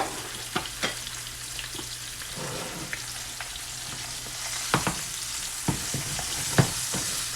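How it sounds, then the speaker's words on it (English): Mackerel sizzles in a frying pan on lowered heat, a steady close hiss of frying with occasional sharper pops and spatters and no voices. "I want it to sizzle, but I don't want it to burn."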